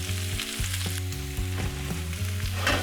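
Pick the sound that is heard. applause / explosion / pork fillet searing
pork fillet searing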